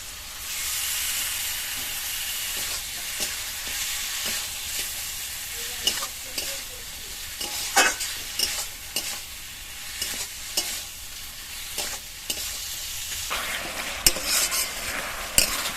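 Cut poultry skin fries in a pan of well-cooked spiced masala, a steady loud sizzle and hiss with repeated scraping stirs and occasional spatula clinks throughout, no voices.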